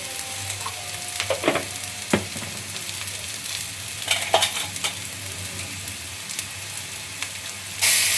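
Browned onions fry in a pan with turmeric for a homemade chicken curry, giving a steady low sizzle. Several sharp scrapes of stirring break through, and a louder burst of frying comes near the end.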